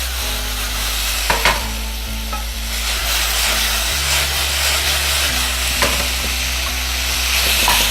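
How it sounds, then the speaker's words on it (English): Beef sizzles and fries hard in a hot wok as it is shaken and tossed, a steady loud crackling hiss with a few clanks from the pan, no voices. "Once I flip it over, I'm gonna start shaking it. Dancing in the wok, shaking it,"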